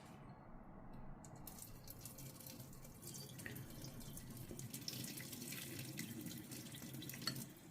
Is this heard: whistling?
no